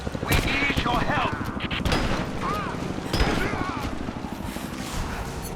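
Gunfire in a video game fight at the edge of a village: rapid, sharp shots crackle steadily throughout, mixed with a busy background of game noise while people talk over it.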